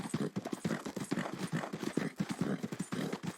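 Horse hooves clip-clop in a steady, rapid galloping rhythm across the ground in a video game set on the island of Guarma, close and continuous, with no talk over it.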